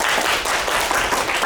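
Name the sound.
audience applause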